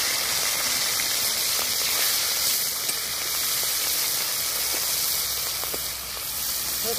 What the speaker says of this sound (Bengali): চিংড়ি মাছ কড়াইতে দিয়ে দেবো।